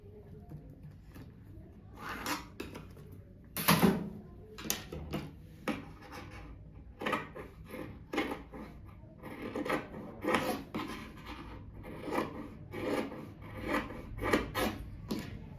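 Cushion fabric being marked along a ruler while sewing: a series of dry, scratchy strokes in irregular bursts, close and moderately loud, with no talk.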